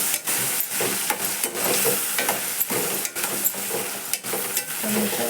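A spoon stirs dosakaya tomato curry in a pan, scraping repeatedly and rhythmically over a soft steady sizzle of cooking.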